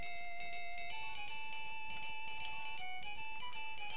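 A phone rings with a bright, repeating electronic melody of chiming tones that plays on steadily and evenly with no talk.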